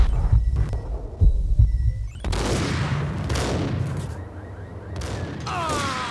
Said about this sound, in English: The other guy shot him.